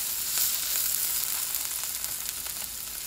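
Shrimp and onions stir-fry in a hot pan with a dense, constant sizzle, broken by faint scraping clicks as the mix is stirred, close and with no talking.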